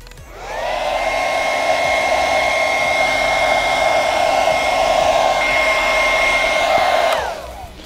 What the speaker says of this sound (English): put the hairdryer onto the hottest setting and then hairdry for 5 minutes per boot